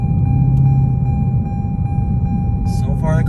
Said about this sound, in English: So far the car still sounds good,